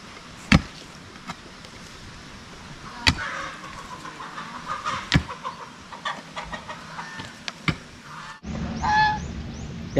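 Scattered goose honks and clucking calls over a steady outdoor background, a few sharp knocks in between, then a louder burst of honking near the end.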